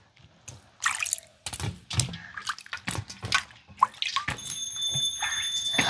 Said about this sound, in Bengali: আমগুলোকে আমি খুব ভালো করে পরিষ্কার জলে ধুয়ে নিয়েছি।